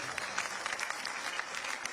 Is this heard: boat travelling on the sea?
no